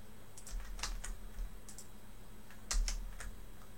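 Typing on a computer keyboard while entering a browser add-on name: a few quick bursts of close key clicks, separated by short pauses, with a slightly louder cluster near the end.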